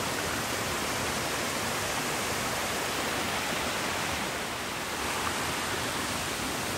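A waterfall at Makuragiyama in Matsue, Shimane, pours with a steady, broad, close rushing roar that fills the whole clip evenly, with no voices.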